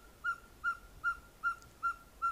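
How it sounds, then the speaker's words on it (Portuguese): A ferruginous pygmy owl (caburé) of the Brazilian caatinga calling, a series of six evenly spaced, clear whistled hoots about 0.4 seconds apart, moderately near over quiet background. "A coruja caburé."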